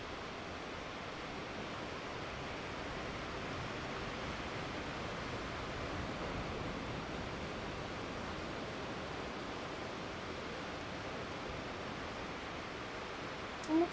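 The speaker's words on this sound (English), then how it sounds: "Very likely you can hear the ocean behind me." Ocean surf by the shore, heard as a faint, steady hiss and wash that continues evenly without breaks, with no talking over it.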